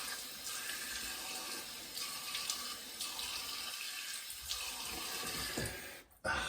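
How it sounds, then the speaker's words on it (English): Water from a bathroom tap runs steadily into a sink for a face rinse after shaving, a continuous close hiss and splash with slight changes as hands move through the stream, ending abruptly. "Warm water rinse followed by cold water rinse."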